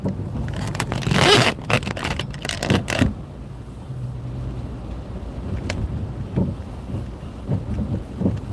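Rain and thunder heard from inside a car driving through Harlem and the Bronx in New York: rough broadband bursts and scraping noise over the first three seconds, then a steady low rumble with scattered softer patters.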